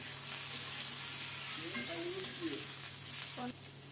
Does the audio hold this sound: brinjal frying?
yes